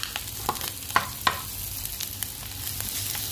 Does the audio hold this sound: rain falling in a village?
no